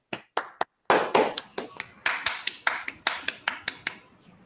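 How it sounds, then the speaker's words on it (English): Clapping for a team at the end of an online reading group session, a few separate claps first and then a steady run of sharp, close, fairly loud hand claps that fades out at the end. "please give them a round of applause for all of their hard work"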